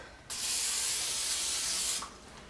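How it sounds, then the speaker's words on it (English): A single steady hiss from an aerosol cooking spray can, lasting under two seconds and fairly close, then cutting off. "I use the spray oil, and I just spray it."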